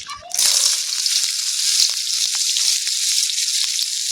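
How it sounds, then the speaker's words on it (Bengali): Chopped onion and chili drop into hot oil and burst into a loud, close sizzle that carries on steadily with small crackles and pops. "আমি লঙ্কা পেঁয়াজগুলো এরকম হালকা করে ভেজে নেবো"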